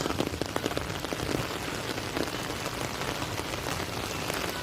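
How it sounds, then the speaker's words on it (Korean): Heavy rain pours down in a dense, steady roar of drops pattering on surfaces, loud and close, with no break across the few seconds. "비도 오고 비도 많이 오고"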